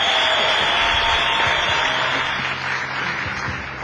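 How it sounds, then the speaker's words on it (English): Dense, loud audience applause fills a comedy show venue, a steady wash of many hands clapping that holds throughout and eases slightly toward the end. "A round of applause for adrenaline."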